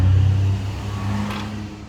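A Chevrolet Cruze with a 1.8 engine, fitted as a replacement, idles roughly with a low, uneven rumble and a slight dip after the first half second, steady and close with no voices.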